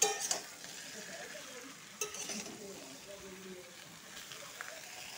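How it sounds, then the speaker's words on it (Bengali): Ridge gourd and potato pieces being turned in a pan, a soft frying sizzle under light scraping and clinks of a spoon against the pan, with a few sharper knocks early on. "ঝিঙ্গাটা ভালোভাবে লাড়াচাড়া করবো আলুর সাথে।"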